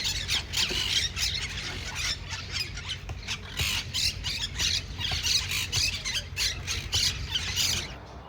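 Small parrots squawk repeatedly in a public park in Málaga, a dense chorus of shrill calls at mid distance over a low background hum, with no talking.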